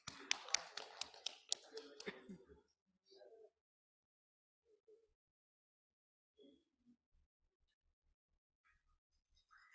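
An audience at a national commerce and accountancy education summit gives a short burst of lively clapping that fades out after about two seconds, followed by near silence with faint scattered sounds.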